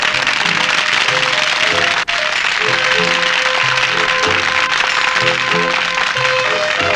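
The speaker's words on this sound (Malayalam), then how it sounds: "എല്ലാവരും കൈയടിച്ച് പ്രോത്സാഹിപ്പിക്കും." Steady, dense applause from a stage-show audience greeting a magician's assistant, a small girl billed as the vanishing beauty, with sustained clapping throughout and a brief dip partway, no talking over it.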